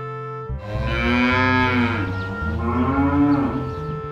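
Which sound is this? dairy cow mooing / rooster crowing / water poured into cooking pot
dairy cow mooing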